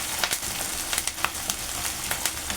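Cumin seeds and curry leaves frying in hot oil for a capsicum curry, giving a dense, steady sizzle with frequent small crackles and pops, close and loud, with no voices.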